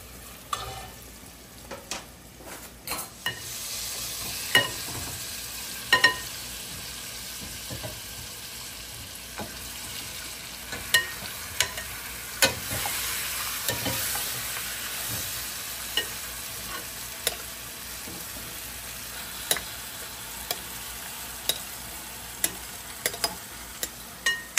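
Pork stir-fries in a pan for Jamaican curry: a steady, close sizzle runs throughout, broken by regular sharp knocks and scrapes of a spoon against the pan, with no one talking.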